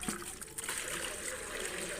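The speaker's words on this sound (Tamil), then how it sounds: "இப்போ இதை எடுத்துகிட்டு நல்ல தண்ணி ஊற்றிக்கலாம்." Fresh water poured into a home fish tank holding young mollies, a short, steady close trickle and splash with no voices.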